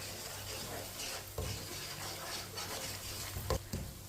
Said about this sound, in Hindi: मसालों को कम आंच पे पकाना है, जलने नहीं देना।